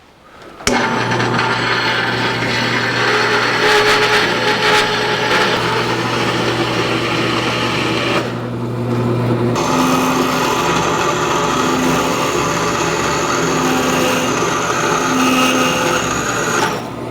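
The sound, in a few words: bandsaw cutting steel pieces for transmission mount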